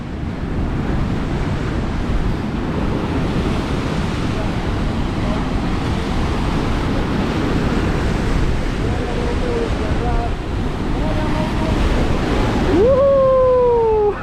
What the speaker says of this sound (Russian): Смотрите, какой шторм.